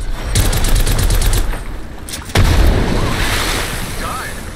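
Rapid automatic gunfire bursts in Apex Legends on Storm Point, loud and close, with a stuttering volley, a brief pause, then heavy booming shots and rumbling combat noise under a voice.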